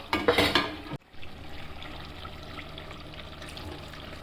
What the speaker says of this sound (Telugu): కొంచెం వాటర్ పోసింది